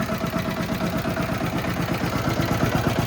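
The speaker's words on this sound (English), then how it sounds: "If I rev up the engine, it'll go pretty quick." A turbo diesel engine on a snow blower runs with a rapid, even clatter, holding a loud, close, rough idle that rises slightly as it revs, with no voices.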